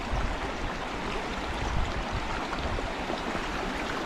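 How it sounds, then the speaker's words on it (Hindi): A small mountain stream in the Himalaya flows nearby with a continuous, close churning rush and faint gurgles, no voices over it. "छोटी जलधारा आ रही हैं और जिनको पार करना अपने आप में एक चुनौती है"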